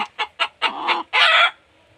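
A chicken clucks nearby in a quick series of short notes building into a longer, louder squawk, then falls quiet.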